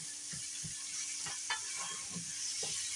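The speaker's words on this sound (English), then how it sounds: "And just put those in that oil," Andouille sausage being fried in oil in a skillet, a quiet steady hiss with soft, irregular stirring bumps beneath it, faint and close.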